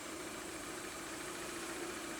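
An Austin Rover car engine with single point fuel injection idling, a faint, steady low mechanical hum with a constant tone and no voices.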